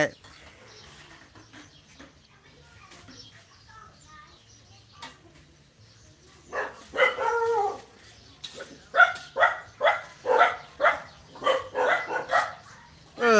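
A dog barks near a Thai home kitchen with a charcoal stove, first a few scattered yips, then a rapid run of about ten loud, regular barks.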